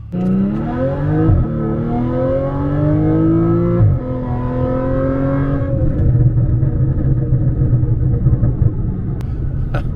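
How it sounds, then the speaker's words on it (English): A supercharged Audi S4 with a loud performance exhaust accelerates hard up through the gears, its engine note climbing steadily before each shift drops the pitch. It roars up close and alone, with no talk. "This exhaust needs to chill. It is so loud, but at this point it's almost comical."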